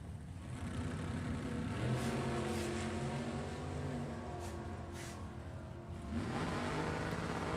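Drag race cars at an NHRA Hot Rod Heritage event roar down the strip, a loud continuous engine drone with rising revving pitch, swelling again near the end.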